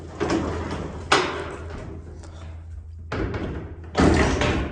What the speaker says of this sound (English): That gate's a lot easier to close.